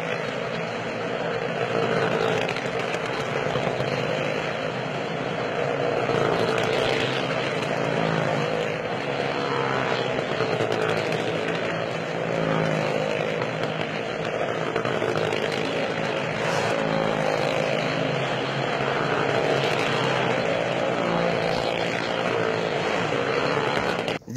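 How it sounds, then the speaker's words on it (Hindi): Motorcycles and cars circling a well of death at a village fair, a continuous loud engine drone that roars steadily throughout without break. "ये मोटरसाइकिलें गाड़ियां इकट्ठी मौत के कुएं में किस तरह चलती हैं"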